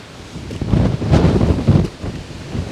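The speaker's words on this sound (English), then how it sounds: "it was still really blustery and certainly windier than I'd expected" Strong gusts of mountain wind buffet the microphone, a loud rumbling roar that swells and eases in waves.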